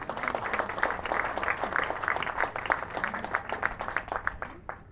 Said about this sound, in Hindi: तालियां हो जाए बहुत ज्यादा